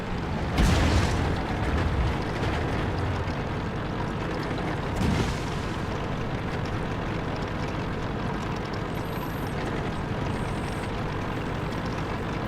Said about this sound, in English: Yeah, there's artillery coming in.